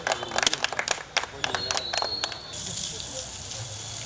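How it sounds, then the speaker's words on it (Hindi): Scattered claps from a small crowd at a fountain inauguration in Netaji Subhash Chandra Bose park, sharp and uneven, then a steady rush of gushing water takes over as the fountain starts. "हमारे क्षेत्र में जोरदार ताली बजाइए"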